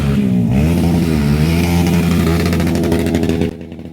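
A racing motorcycle crosses the finish line at full throttle and bounces off the rev limiter, giving a loud, close, sustained engine roar with a rapid stuttering pulse before it cuts back sharply near the end.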